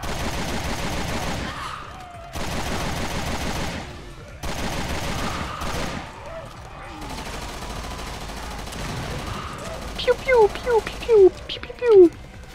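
A submachine gun in Resident Evil Revelations 2 sprays bursts of rapid automatic fire, with a few loud sharp shots near the end. Someone talks over the game sounds.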